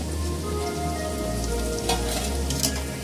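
Cubed onions and capsicum fry in hot oil in a pan, a loud steady crackling sizzle with occasional stirring scrapes.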